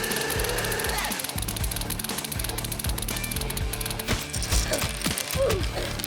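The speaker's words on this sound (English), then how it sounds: "after loading all the darts, we're finally ready to fire them all at the same time" Many LEGO spring-loaded dart shooters fire together in a dense, rapid clatter of plastic clicks and snaps, close and continuous for several seconds.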